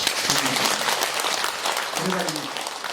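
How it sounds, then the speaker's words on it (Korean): Audience applause at a Buddhist dharma gathering in a temple, a dense steady wash of clapping from a seated crowd lasting throughout, with a few voices faintly mixed in. "박수 한번 칩시다"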